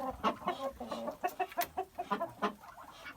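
Minorca hens cluck in a steady, choppy series of short calls, close and moderately loud, with no talking.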